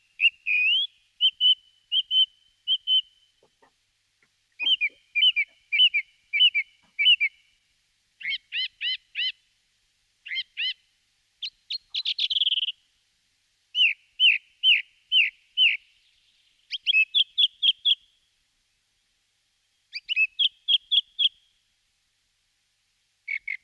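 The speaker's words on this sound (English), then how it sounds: "Song thrushes do vary in their song, but there's a basic sequence which you're going to hear now." A song thrush sings in a woodland dawn chorus, delivering short bursts of repeated whistled phrases separated by brief pauses, each motif sounded several times in a row, clear and fairly close with no other sounds.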